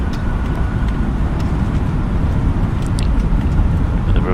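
Airliner thrust reversers roar loudly after touchdown in Microsoft Flight Simulator at stormy Istanbul, a dense, steady low rumble of engine and rollout noise holding constant throughout.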